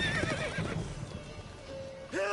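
Roach the horse gives a loud, close neigh in The Witcher 3, a wavering whinny over faint hoof clops and background game sound, ending with a brief rising snort.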